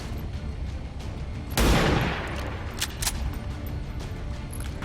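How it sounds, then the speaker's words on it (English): Gunfire in XCOM 2 aimed at an enemy officer arrives as one loud burst of shots with a booming tail. A few fainter clicks and impacts follow over the game's background ambience, and no one speaks. "Let's start by shooting at this officer."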